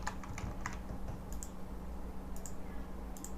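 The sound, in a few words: typing on a computer keyboard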